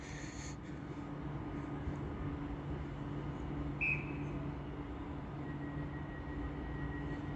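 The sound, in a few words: train departing Stockport station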